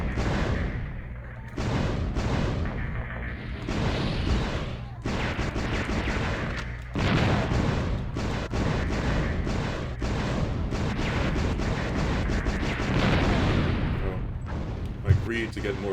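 Cannon fire in the shooter video game Einhander: repeated heavy booming shots in dense bursts with brief gaps, loud and continuous over the game's soundtrack, with a voice talking over it.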